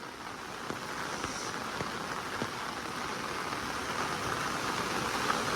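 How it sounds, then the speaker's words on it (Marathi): Heavy monsoon rain in Konkan falling continuously, a dense, steady hiss of drops on surfaces with a few louder splats, close and unbroken, no voices. "सकाळपासून कंटिन्यू पाऊस पडतोय"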